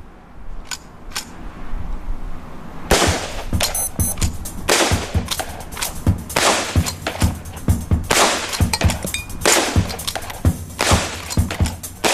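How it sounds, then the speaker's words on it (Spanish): Henry repeating rifle, the lever-action type used by the Lakota and Cheyenne, firing a rapid string of sharp, loud shots outdoors, roughly a dozen cracks in quick succession after a couple of fainter opening reports. "El siguiente es el rifle Henry de repetición, utilizado por los Lakota y los Cheyenne."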